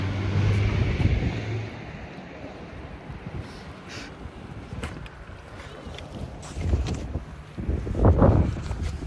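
Gusty wind buffets the microphone outdoors during a walk, with rumbling low gusts swelling near the start and again toward the end, and faint footsteps and distant traffic underneath.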